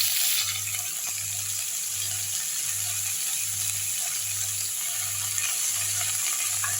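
Green gram greens sizzling in hot ghee, a soft steady frying hiss running throughout, accompanied by a regular pulsing low hum, with no talk.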